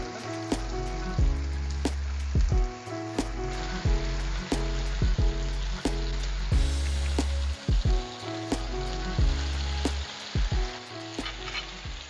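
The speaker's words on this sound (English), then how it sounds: "we're going to get these thrown in the pan and get them crisped up" Chicken feta spinach sausages and chopped onions sizzling in a pan, a continuous crackling fry punctuated by regular clanks and scrapes of a utensil turning them, close and unvoiced.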